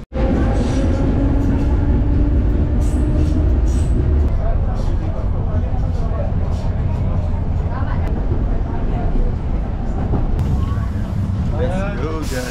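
A green passenger train in Hungary rumbles loudly and continuously throughout, with rail and wheel noise and faint squeals near the end, while people talk over it.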